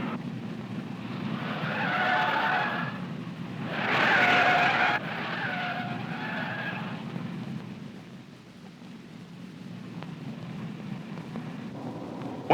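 A car races past at top highway speed during a 1967 NASCAR tire test, engine roaring with a rush of tire noise that swells twice before settling into a steady hum.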